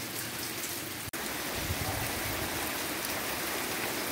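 Steady, dense rain falls without a break, broken only by one brief click near the start, with no voices heard.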